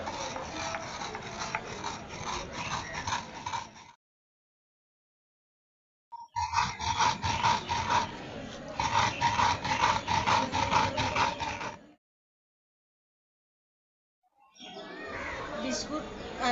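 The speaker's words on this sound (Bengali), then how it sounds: "চিনিটাকে এখন শিলনোড়ার সাহায্যে গুঁড়ো করে" Sugar being crushed to powder on a traditional shil-nora grinding stone, a rough rhythmic scraping and rubbing in two long bursts with pauses between, close and fairly loud.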